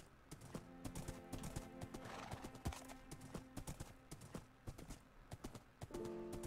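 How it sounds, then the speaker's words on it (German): A horse in the Minecraft video game gallops away, its rapid clip-clop hoofbeats continuing throughout with a brief whinny, fairly quiet and steady. "Ich sehe dein Pferd alleine weglaufen, ist das richtig?"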